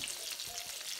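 Chicken pieces browning in a pan with mushrooms for a wine-sauce dish, giving a steady, close, crackling sizzle with no pauses.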